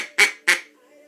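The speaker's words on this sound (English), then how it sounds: "Now I'm doing the flex tone one more time." A camo flex tone duck call blown close by gives two short, loud, nasal quacks in quick succession, then quiet.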